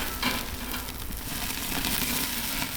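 Steak sizzling in a pan at a campground, a dense continuous frying hiss heard up close and loud throughout, with no talk.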